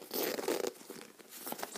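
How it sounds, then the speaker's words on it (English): A bag zipper being zipped up, a quick ragged rasp lasting under two seconds, close and fairly quiet, with no talk over it. "I'm just going to zip up"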